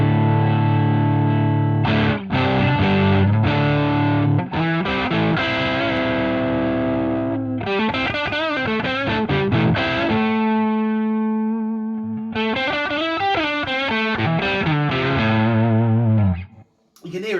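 An electric guitar runs through a VS Audio Royal Flush overdrive pedal, playing chords and single-note lines with a gritty, moderate drive, loud and continuous for the whole stretch with no pauses.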